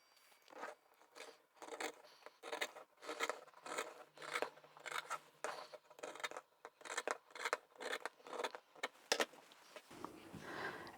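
Scissors cut through fabric along a sewing pattern for a chemo cap, a close series of about a dozen crisp rhythmic snips that ends with faint rustling.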